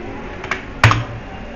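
Computer keyboard: a couple of light key taps followed by one sharper, louder Enter keystroke, close and dry in a quiet room.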